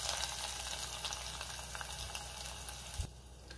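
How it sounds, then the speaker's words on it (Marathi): Steady, close sizzling as a hot tempering of garlic and green chillies is poured into masoor lentils, a dense crackling hiss that drops off sharply near the end. "मी तडका मसूरमध्ये घालते"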